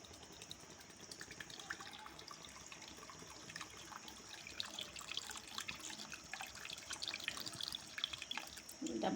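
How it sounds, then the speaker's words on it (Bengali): Coconut water is strained while cooking prawns in coconut, giving soft, faint trickling and dripping liquid close by with a quiet kitchen background, building slightly at the end. "দেখো, আমি ডাবের জলটাকে ছেঁকে নেব।"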